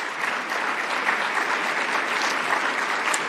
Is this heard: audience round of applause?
yes